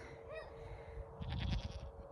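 A goat on a homestead gives one short, wavering bleat early on, fairly faint, before rustling and wind-like noise rises and takes over.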